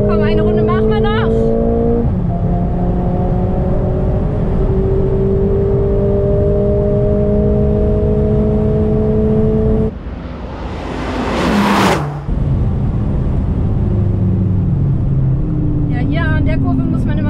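A Mercedes-AMG A45 S hatchback lapping a race track, its engine droning loudly from inside the cabin with gear changes and rising revs, plus a brief whooshing burst partway through.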